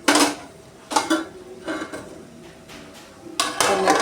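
A lid clatters onto a metal pan on the stove during egg macaroni cooking, giving several sharp metallic clanks and rattles spaced a second or so apart, close and fairly loud.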